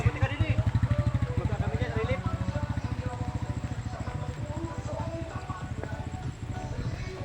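A motorcycle climbs a mountain trail past houses and rice fields, its engine pulsing steadily and close throughout, with people talking over it.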